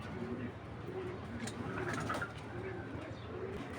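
Giribaj tournament pigeons cooing in a loft, soft repeated low coos at a steady rhythm over a faint background hum.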